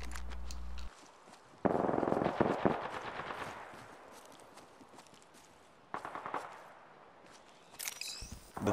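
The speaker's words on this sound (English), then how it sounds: "I hear gunshots." Gunfire in the video game Apex Legends, rapid bursts of automatic shots with some single cracks, moderately loud and spread across the scene, without speech.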